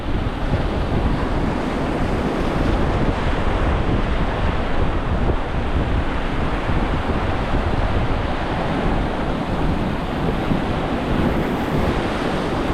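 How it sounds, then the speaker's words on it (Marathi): Big, rough sea waves crash onto the shore along the Mumbai coast during cast-net fishing. A loud, continuous surging roar is heavily mixed with wind buffeting the microphone, with no voices. "आज लाटा तुम्ही बघितल्या असतील किती खतरनाक आणते भारी लाटा"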